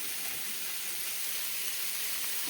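Cut vegetables seasoned with salt and a pinch of turmeric frying on a medium-low flame, heard as an even, continuous soft sizzle with no breaks.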